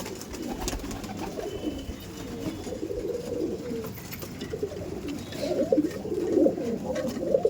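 Pigeons in a loft give soft, repeated cooing calls close by, a few birds overlapping, rising more strongly toward the end over faint background noise.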